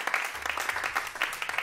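Audience applause for a jazz quintet at a concert: dense, steady clapping from a crowd, continuous and fairly close, with no voices over it.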